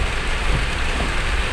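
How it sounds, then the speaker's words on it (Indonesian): Heavy rain pours down in Palembang, a dense, loud, continuous hiss of water hitting surfaces, steady and close, with no voices. "hujan lebat Palembang,"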